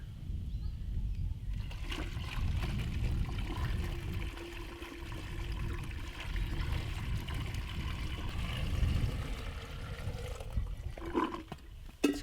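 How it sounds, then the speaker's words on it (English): Water runs and trickles steadily as a cottage water system's inlet pipe and pump are filled, a continuous low gurgling rush lasting throughout with slight swells, then a brief knock at the end. "I'm trying to fill now the inlet pipe and the pump with water"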